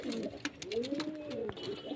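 A pigeon coos close by in soft, rolling throaty calls, repeated a couple of times over a brief moment.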